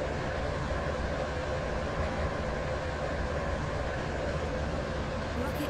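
A Class 707 train running in Roblox Stepford Connect, a steady broad rumble and hiss of the moving train carrying on evenly from start to end with no break.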